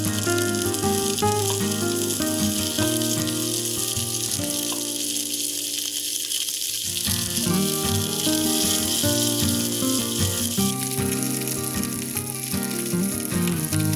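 Onions caramelize in a pan for a meatloaf topping, a steady sizzle that holds at an even level throughout beneath a bed of tonal music.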